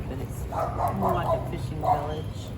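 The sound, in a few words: small dog barking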